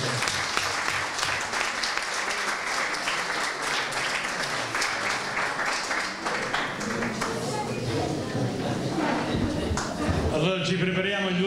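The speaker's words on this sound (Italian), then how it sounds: "un applauso per tutte le donne che vogliono imitare la vera donna," An audience applauds at a women's celebration. Sustained, dense clapping fills the room and is steady throughout, with voices rising near the end as the clapping fades.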